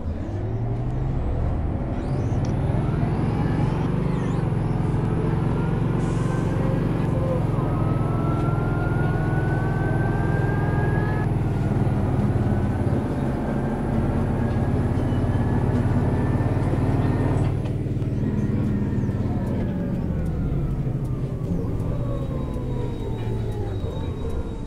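A Van Hool AG300 articulated bus in the OMSI simulator pulls away in kickdown, its engine droning steadily with a rising whine as it accelerates through the gears, loud and continuous throughout.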